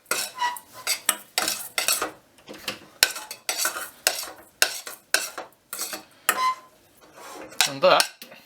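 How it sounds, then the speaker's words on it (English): Cooked rice with butter and a sprinkle of salt is stirred in a pan, giving a string of close, distinct scraping and clinking utensil strokes against the metal with brief pauses between them. "Give that all a stir."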